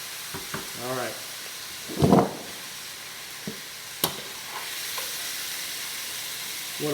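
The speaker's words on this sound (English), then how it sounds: "we just want to stir fry this around for about 2 to 3 minutes until this chicken gets mostly cooked through" Chicken stir-frying in oil in a skillet gives a steady, bright sizzle throughout, broken by a few scraping stirs and clatters, with brief speech early on.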